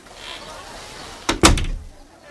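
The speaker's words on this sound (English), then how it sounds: "And the woman closed the door." A door being shut, with a brief sharp thud and a second louder slam close by, following a quiet background.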